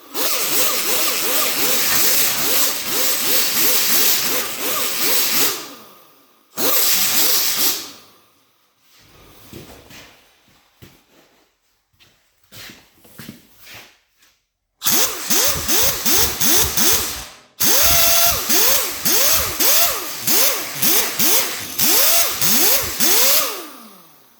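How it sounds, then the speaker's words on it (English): An angle grinder shapes the edges of a metal patch panel for a car body repair, in loud sustained grinding bursts that rise and fall as the tool bears on the metal, with a quieter gap in the middle. "I'll just take the grinder and I'll start shaping this"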